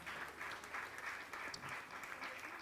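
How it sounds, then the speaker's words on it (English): A room full of women applauding together at a market bell-ringing event for gender equality, steady crowd clapping that stays even and moderately faint for the whole stretch. "let's give ourselves a round of applause"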